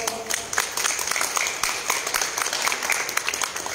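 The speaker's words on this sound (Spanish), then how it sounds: "Un aplauso, por favor." An audience at a Tapachula press conference for a livestock expo applauds a newly introduced official; a moderate, steady patter of many claps fills the room, with faint murmuring underneath.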